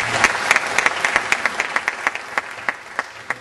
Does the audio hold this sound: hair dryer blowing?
no